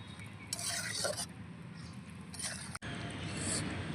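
A spoon stirs a flat bean and lentil dumpling vegetable curry in a pan, producing two short bursts of scraping and clinking over a faint background hiss.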